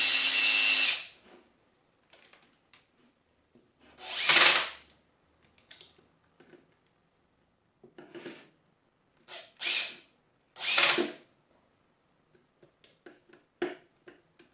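A power drill driving a flexible drill shaft extension into an unclamped workpiece whines in several short, loud bursts, with quiet gaps and small clicks and knocks between them and no talking.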